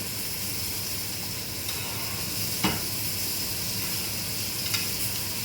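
Steak frying in a pan of butter and oil with garlic and rosemary gives a steady broad sizzle, with a couple of brief clinks or spoon scrapes as butter is basted over, and no talk.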